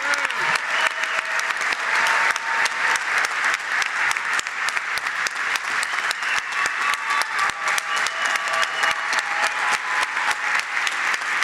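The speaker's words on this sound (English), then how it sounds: "let's give a big round of applause for all of our 200 plus scholars this morning." A large breakfast-event audience applauds its 200-plus scholars in a loud, continuous roar of clapping that holds steady for over ten seconds with no break.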